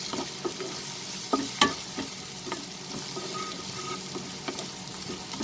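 Dry ground spices (cumin, coriander, chilli and turmeric) stirred in a frying pan for a soyabean masala, with a steady low sizzle and scraping, plus a few sharp clinks of the spoon against the pan.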